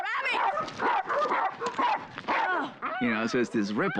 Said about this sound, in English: That was a dog fight.